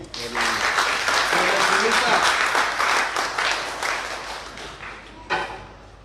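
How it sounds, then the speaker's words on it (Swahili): Congregation applause at a church service, a loud burst of dense clapping that swells and holds before gradually thinning out, with a final spike near the end. "Wapigie makofi."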